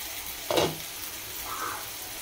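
Onions frying in a pan give a soft, low sizzle, with one brief stir or scrape near the start and a faint clink later.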